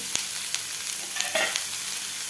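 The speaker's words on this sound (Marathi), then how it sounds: "यावर झाकण ठेवायचं आहे दोन मिनिट म्हणजे वाफेवर व्यवस्थित भोपळा पटकन शिजला जातो" Steady, quiet sizzling of food cooking in a covered pan, with a few faint clicks and no voices.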